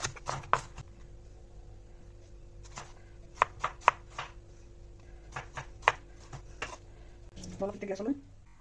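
Knife chopping climbing fish and onions on a board in a home kitchen, a few sharp, separate chops spaced irregularly over a low steady hum, then a brief rustle at the end.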